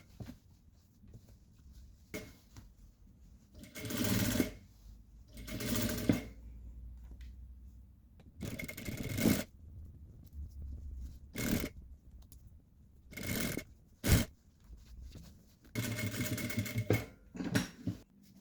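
A sewing machine stitches a zipper onto a school skirt, running in several short bursts of rapid, steady needle chatter with quiet pauses between, close and clear, with no talking.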